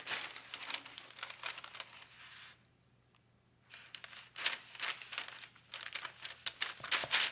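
Paper crinkles and tears in a string of close, scratchy rustles, with a short quiet pause midway before the crumpling picks up again, while chocolate-covered cherries are being wrapped.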